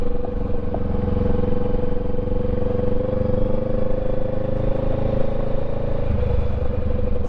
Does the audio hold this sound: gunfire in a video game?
no